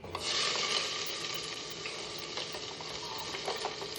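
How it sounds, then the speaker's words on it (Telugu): Cloves, a cinnamon stick piece and cumin seeds frying in hot oil for mutton keema, a loud, close, steady sizzle with scattered tiny pops and faint stirring throughout. "ఆయిల్ హీట్ అయిన తర్వాత దీంట్లోకి ఆరేడు లవంగాలు చిన్న దాల్చిన చెక్క ముక్క ఒక హాఫ్ స్పూన్ జీలకర్ర కూడా వేసుకుని ఫ్రై చేసుకోండి"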